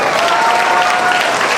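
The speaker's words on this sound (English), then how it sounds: "Give a round of applause." A large audience at a university fresh-student admission ceremony applauds the registrar with loud, dense, steady clapping that fills the hall without a break.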